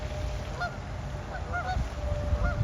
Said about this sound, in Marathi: त्या पक्ष्यांचा ओरडण्याचा आवाजही तुम्हाला येत असेल.